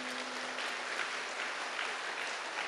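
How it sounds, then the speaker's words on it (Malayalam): A church congregation claps at a prayer service, a continuous, even roar of many hands heard from a slight distance, fairly soft and unbroken. "അത് കൈയടിച്ച് കർത്താവിനെ മാറ്റപ്പെടുത്തുക."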